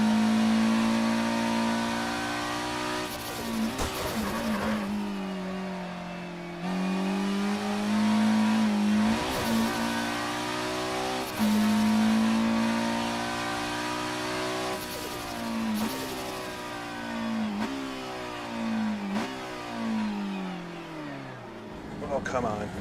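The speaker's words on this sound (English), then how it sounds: "There's like big pops and bangs when I downshift as well, like the car, like the fuel is, some extra fuel is getting into the exhaust or something." A historic race car in rFactor 2 revs hard through the gears, its engine note climbing and falling, with sharp exhaust pops and bangs cracking out on each downshift.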